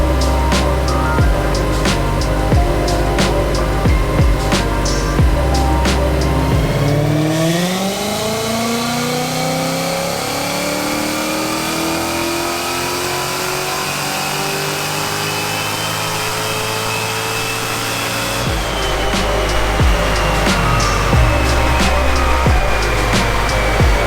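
A Whipple 2.9L supercharged 2015 Mustang GT roars through a dyno pull, idling loudly before revving up in a long rising sweep that climbs steadily, then drops back to a rumbling idle near the end.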